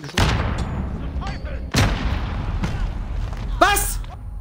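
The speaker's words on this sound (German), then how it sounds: "Ja, die Granate fliegt bis hier vor von seinem Base oder was?" Heavy booming blasts from grenades in a shooter game, three loud thuds spaced a second or two apart, with players talking over the action.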